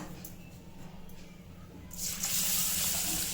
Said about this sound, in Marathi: ही पाव किलो मुगाची डाळ आहे ती स्वच्छ पाण्याने धुवून भिजत टाकतो